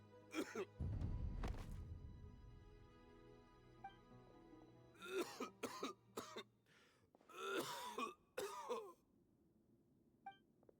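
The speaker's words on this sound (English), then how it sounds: "Why is he coughing so much?" A Genshin Impact game character's rough throat clearing and several hacking coughs in bursts, with strained groans between them and a few faint tones in the background.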